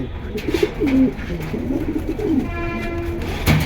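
Soft, low cooing of pigeons repeats through the clip, with a few rustles and brief clicks nearby and no clear talking.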